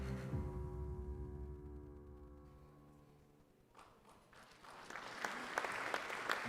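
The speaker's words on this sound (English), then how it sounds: "round of applause for that West Indies team of 1975" Applause for the 1975 West Indies cricket team at an evening celebration, rising after a sustained musical tone fades, scattered claps building into a broad crowd sound, faint and distant.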